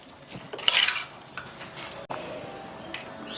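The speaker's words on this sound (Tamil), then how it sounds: "இஞ்சி பூண்டு விழுது எல்லாம் போட்டுட்டேன். இப்போ வந்து அதை கிளறிடுவேன்." A utensil stirring ginger garlic paste with pepper powder in a pan gives a clattering scrape, loudest early on, then lighter, scattered taps and scrapes against the metal.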